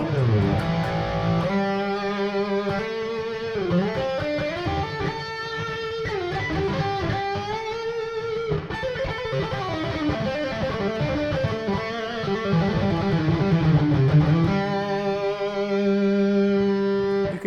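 Gittler guitar through a Marshall-style amp tone: gritty, sustained overdriven notes and bends in a continuous melodic line, dense and fairly loud, with no talking.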